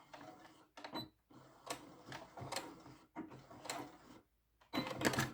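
A sewing machine stitches a seam on a rabbit-shaped fabric bag, running in several short mechanical bursts separated by brief pauses, the final burst loudest, close up with no talk.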